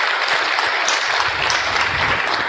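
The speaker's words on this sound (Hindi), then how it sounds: "लिए जोरदार तालियां" A crowd gives a team loud, sustained applause, with dense, even clapping filling the whole stretch without a break.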